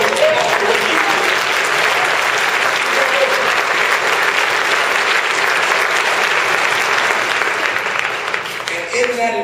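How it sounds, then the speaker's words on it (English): Loud, dense crowd applause at a 2011 political rally for the American Dream, a steady roar of clapping held for nearly ten seconds, tapering slightly at the close. "Give yourself a round of applause for what you did"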